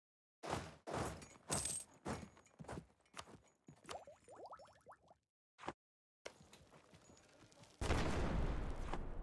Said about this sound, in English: Get artillery barraged.